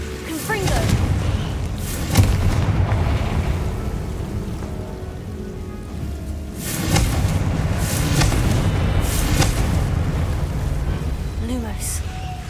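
Repeated booming blasts from the Confringo fire spell in the Hogwarts Legacy video game erupt every few seconds over a continuous crackling, rain-like wash of game sound, loud and close, with a voice talking between the blasts.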